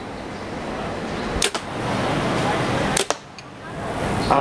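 A compound bow is shot twice at a target, each release a sharp snap against a steady outdoor hiss, the two shots spaced about a second and a half apart.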